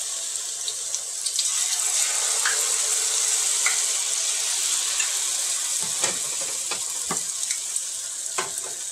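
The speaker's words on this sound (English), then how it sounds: "Now we are going to fry the Malpua. Put a spoon of Malpua mix in the oil." Malpua batter sizzles and crackles in hot oil, a steady loud frying hiss with scattered sharp pops and spatters, close by, and no voices.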